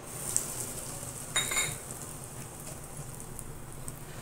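Asafoetida (hing) dropped into hot oil for tempering a raw mango pickle, giving a faint, steady sizzle with a brief louder crackle burst partway through, no talking.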